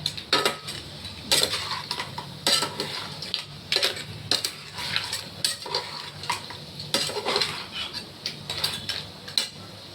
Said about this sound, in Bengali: এবার আমি এটাকে নাড়বো। এটা আমি ঢেকে ঢেকে কষাবো, এই মানে কাঁকড়াটাকে।